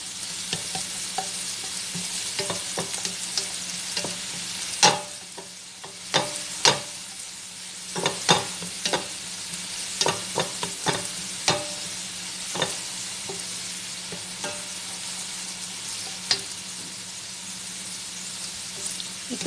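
Garlic and shrimp sautéing in a pan for a margug dish, a continuous close sizzle broken by repeated scraping and clattering stirs from a utensil, with quiet talk now and then.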